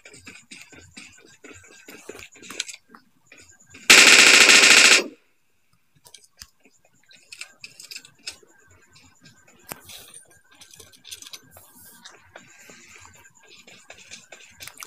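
Automatic gunfire in the video game PUBG Lite, one loud sustained burst lasting about a second amid quieter game clicks, clinks and scattered effect sounds.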